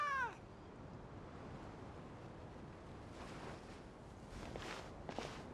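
A cat meows briefly at the very start in the Genshin Impact game world, a short rising cry that gives way to a steady low ambient wash with faint footsteps and soft, surf-like swells.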